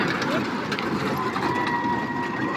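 A small amusement-ride train with a driver and a few passengers runs at night with a continuous rumbling, rattling rail noise, steady and fairly close throughout.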